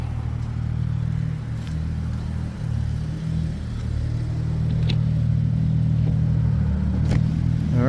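A Toyota Supra with a 7M-GTE engine idles and then pulls away, its low mid-pitched engine rumble steady and close, rising slightly as the car gets moving.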